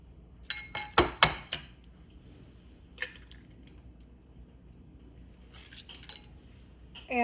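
Vanilla extract and two large eggs get mixed into creamed butter and sugar, with a few sharp clinks of a utensil against the bowl early on, then faint scraping and stirring that continues softly.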